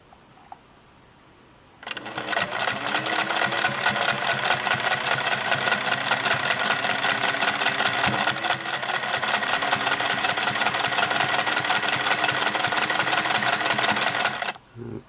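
A Singer Slant-O-Matic 403A sewing machine fitted with a monogrammer attachment stitches steadily at close range, a continuous mechanical whir with a fast rhythmic clatter that starts after a brief quiet moment and stops near the end.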